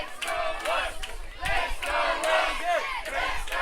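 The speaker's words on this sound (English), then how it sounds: "The crowd is in heavy favour of Wasps here in the grandstand." Grandstand crowd at a Waikato rugby final between Panthers and Wasps, a steady roar of cheering and shouting that swells and holds throughout, loud and close with no talk over it.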